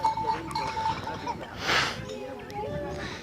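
Sheep bleating in a grazing field in an Ethiopian village, a few near bleats with a brief louder burst midway, set against faint ambient noise and nearby voices.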